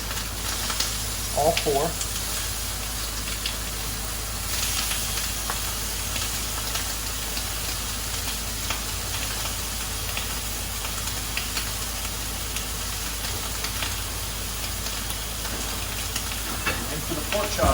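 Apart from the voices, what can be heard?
pork chops sizzling in a hot pan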